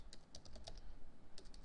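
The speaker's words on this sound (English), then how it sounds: "now in the quiz I'm going to type here LemonTree" Quiet, steady typing on a computer keyboard, a run of light key taps in an irregular rhythm with a brief pause before a few more strokes, no voices.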